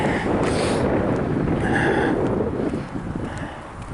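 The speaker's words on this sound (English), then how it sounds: "I'm trying to point you away from the wind" Wind buffets a microphone on a wooded canal-side trail beside State Route 31, a loud, steady roar of rumbling gusts that eases slightly toward the end.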